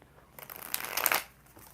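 A single riffle shuffle of tarot cards, rising to a crisp flutter and then stopping, close and fairly quiet with no talking.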